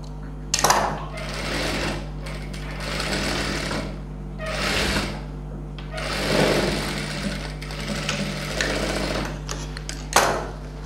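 A sewing machine stitches a folded seam on a silk pattu pavadai in bursts of rapid mechanical whirring, pausing briefly between runs, close and fairly loud over a steady low hum, with no talking.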